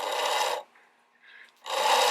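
Copper cable is pulled through a YESCOM wire stripping machine, giving two loud, steady rasping scrapes, each about half a second long, separated by a quiet pause.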